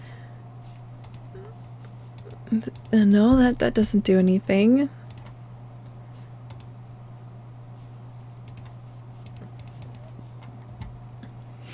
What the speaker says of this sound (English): I guess we're just gonna start clicking on things